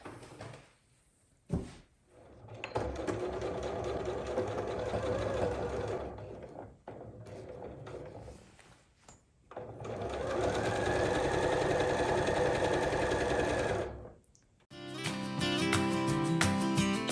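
A sewing machine stitches an envelope pillow cover in several bursts of fast, loud whirring, with brief stops and fabric handling between runs, ending with a different, busier stretch of sound; close, no speech.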